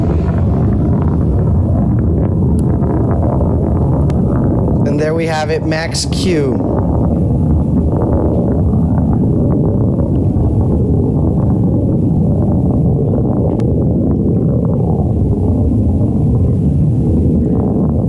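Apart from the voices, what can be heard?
Blue Origin New Shepard BE-3 rocket engine roar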